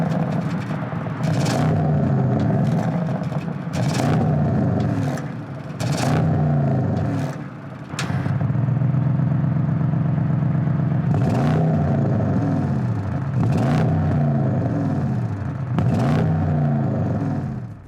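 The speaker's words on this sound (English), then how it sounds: "I haven't touched the exhaust yet, mainly because I think I like the way it sounds stock." Audi RS6 engine on its stock exhaust, heard from inside the car as it accelerates through repeated gear changes: a loud, rising drone that drops and climbs again with each upshift, with a few brief gaps.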